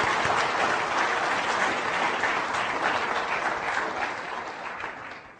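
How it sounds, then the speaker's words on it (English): An audience claps steadily and fairly loudly throughout, a dense wash of applause at a talk on truth and the origins of evil that fades slightly toward the end. "I think we should all thank him with some applause"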